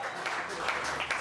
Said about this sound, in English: So let's give a round of applause for that accolade right there.